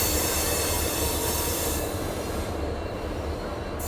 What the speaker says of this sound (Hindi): मेरे ख्याल से ये हाई कोर्ट एक्सप्रेस होना चाहिए